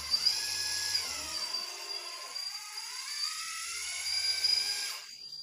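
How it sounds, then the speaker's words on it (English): The hydraulic pump of an RC excavator with a hydraulic quick coupler whines steadily and close, a high electric-motor tone that shifts pitch as the machine moves, with no speech. "And listen to the pump. Is it loud or is this okay?"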